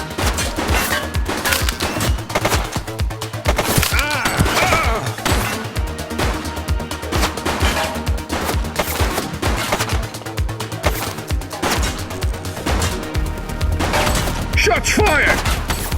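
Rapid bursts of gunfire from The Precinct, a police game played on PS5 Pro, crack and thud across a dense, busy mix with crashes and impacts, loud and sustained throughout, with a voice calling out briefly.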